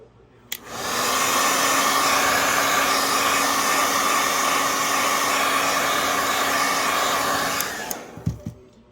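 A heat gun blows steadily on vinyl wrap being laid over a shotgun, a loud, even rushing roar that starts abruptly, holds for about seven seconds, then cuts off with a few small handling knocks.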